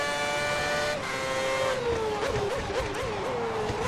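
An F1 car engine in the racing game F1 2010 whines loudly and steadily near the listener, its pitch dipping and wavering as gears shift and the revs rise and fall, with a brief tire squeal.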